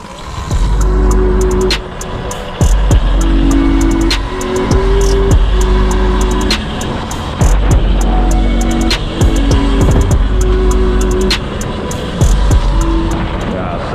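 A 2025 Altis Sigma MX bike on a test ride, its motor loud and close with steady droning passages broken by short gaps and sharp rises, as if throttle is cut and reapplied.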